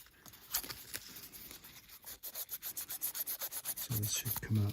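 Fine 1200 grit sandpaper rubs in quick, rhythmic back-and-forth strokes against the legs of a part on a Commodore Amiga 2000 board, close and soft, speeding into a steady repeated pattern.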